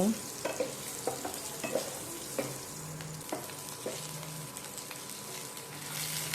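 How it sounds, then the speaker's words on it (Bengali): Cut potatoes frying in hot oil with cumin seeds, a steady sizzle broken by repeated scraping stirs of a spatula in the pan, close and moderately loud. "এরপর দিয়ে দিচ্ছি কেটে রাখা আলুগুলো এখন আলুগুলো আমি একটু হালকা সোনালি করে ভেজে নেব"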